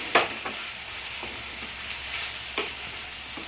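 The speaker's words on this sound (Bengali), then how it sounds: "লাল লাল করে সুন্দর করে ভাজতে হবে" Soya chunks fry in a pan with a steady background sizzle, punctuated by a few clear clacks and scrapes of a spoon stirring them, and no one speaks.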